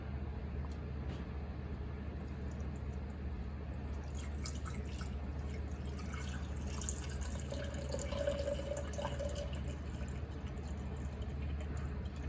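Vinegar trickles and drips into a container of eggs, a faint, quiet pour over low background hum, with a brief louder gurgle midway.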